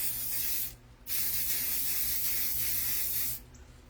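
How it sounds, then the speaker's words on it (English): Clear lacquer spray hissing from a can onto a flocked piece, two close, loud sustained bursts with a short pause between them. "take your clear spray that you use, your lacquer spray,"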